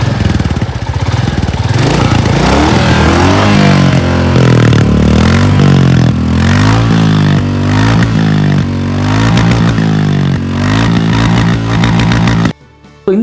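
A 2024 Royal Enfield Classic 350 BS6 Phase 2 motorcycle engine runs loud and close, a thumping single-cylinder idle with a few throttle swells, and cuts off near the end.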